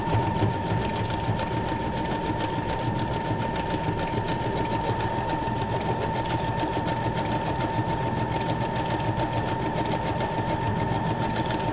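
An electric sewing machine stitches a junk journal pocket, a steady fast mechanical whirring hum with a constant tone, running continuously and close without pause.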